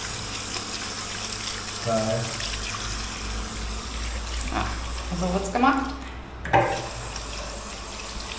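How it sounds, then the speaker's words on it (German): A tap runs water into a sink plugged with a washcloth, used to wash socks on a long hike. A steady close gush and trickle continues while someone speaks briefly over it. "Also Waschlappen nehmen, als Stöpsel nehmen, zack, und Wasser laufen lassen."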